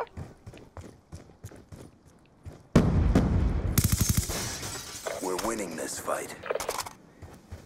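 In Black Ops 2 online play, rapid gunfire shoots through walls, a sudden loud burst of shots and impacts erupting after quieter moments, with voices talking over the action.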